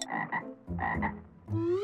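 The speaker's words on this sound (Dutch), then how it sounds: "Een kikker?" A cartoonish frog in a mermaid-themed video game croaks in a few rapid, bubbly bursts followed by a rising, warbling call, close and clear with no voices.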